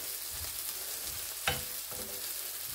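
Chopped vegetables for menemen hiss and crackle steadily in a pan, with a single sharp clack of a wooden spoon midway, close but soft, no voices.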